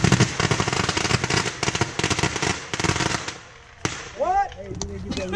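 Fourth of July fireworks show in Florida, with dense rapid bursts and crackling pops filling the first few seconds, a lull, then a single loud bang and a whistling rocket shriek, with people talking nearby.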